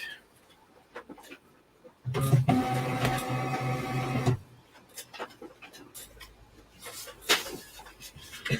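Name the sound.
printer printing labels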